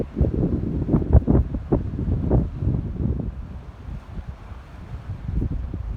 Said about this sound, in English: Little bit of wind, but just beautiful.